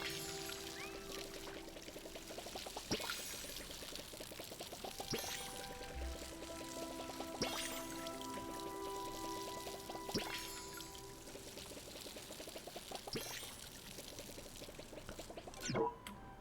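Watering can pouring water onto crops in the Palia video game, a soft trickling stream repeated in several quiet bursts with faint game sounds between them.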